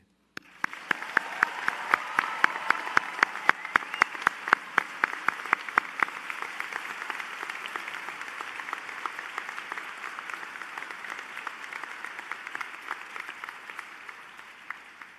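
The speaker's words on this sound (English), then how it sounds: "let's give her an incredible large round of applause" Graduation-ceremony audience at a pharmacy school hooding and diploma event gives a long, sustained round of applause, dense and steady, swelling early and then holding at a fairly loud level throughout.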